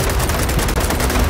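Loud, steady automatic gunfire in Gears of War, a packed burst of shots with no pauses, close and dominant throughout.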